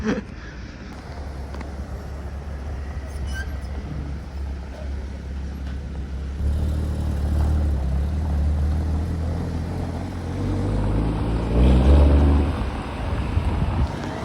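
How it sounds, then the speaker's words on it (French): A Porsche 718 Boxster Spyder engine rumbles low and steady outdoors at Deauville, swelling louder around the middle and peaking near the end as the car passes, with wind buffeting the microphone throughout. "Elle sonne bien cette 718 Boxster Spider."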